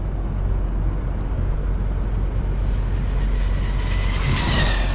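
A Traxxas Rustler 2WD RC car runs at full throttle with a steady, high, buzzing motor whine that rises and grows brighter toward the end, likely with spinning tires, heard outdoors on a road.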